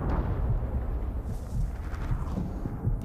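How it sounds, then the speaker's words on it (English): Deep, rumbling booms roll continuously in the video game Middle-earth: Shadow of War, like distant explosions merging into one low, heavy roar. "These explosions are crazy."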